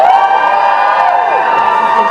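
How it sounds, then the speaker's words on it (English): A crowd at a university Strictly-style dance competition cheers loudly and steadily, a dense wash of shouting and whooping voices without pause. "if you could give whoever that was in the first half a cheer, you can give us a better cheer than that"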